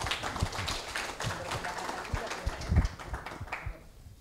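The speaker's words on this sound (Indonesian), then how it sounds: "Tepuk tangan." An audience at a talk show during the Dieng Culture Festival claps in a scattered burst with sharp hand strikes, loud at first and then trailing off toward silence.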